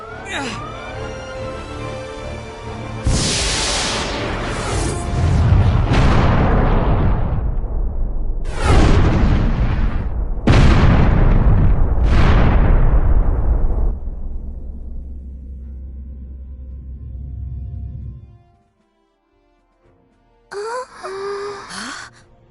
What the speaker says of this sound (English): Incoming fire from the unknown vessel.